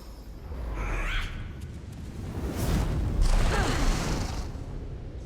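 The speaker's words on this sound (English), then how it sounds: "So it looks like she just did some kind of source explosion and we're stunned" A magical source explosion bursts in the fantasy role-playing game Divinity Original Sin 2, a loud, booming wash of noise. A second, heavier swell follows and rumbles on to the end, with no talking.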